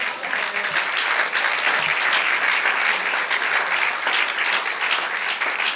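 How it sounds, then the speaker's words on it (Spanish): A church congregation applauds during a sermon, a thick, continuous crackle of clapping that stays loud and even from start to finish, with faint voices mixed in. "dale otro aplauso"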